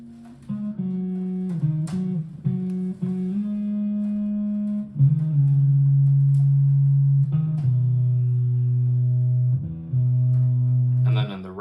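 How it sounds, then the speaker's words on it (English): Real bass guitar playing a solo line, doubled and panned: sustained, gliding low notes with steady, full-bodied tone across the whole passage, mixed with a few higher accents. "But then I got a real bass guitar that I played like a solo on and then doubled it"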